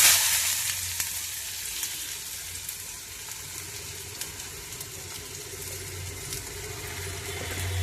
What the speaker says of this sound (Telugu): ఇవి వేయించుకోవాలండి బాగానే.